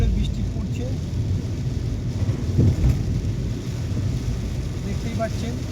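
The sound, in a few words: heavy rain falling on car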